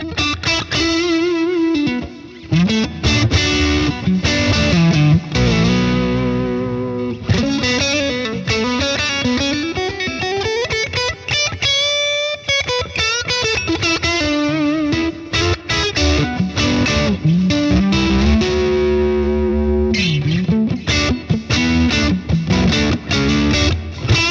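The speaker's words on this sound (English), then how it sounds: "I'm going to increase the reverb and put some delay" An electric guitar plays sustained, effects-laden lines with lush reverb and echoing delay, loud and continuous.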